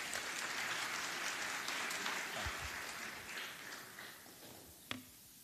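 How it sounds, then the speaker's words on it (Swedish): A festival audience applauds, steady clapping spread across the crowd that fades gradually, ending with a single sharp knock near the close. "En applåd."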